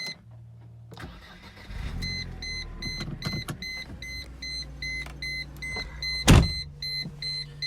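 Mercedes-Benz R170 SLK engine cranking briefly on the ignition key, then catching and settling into a steady idle, with interior chimes beeping repeatedly over the running engine nearby.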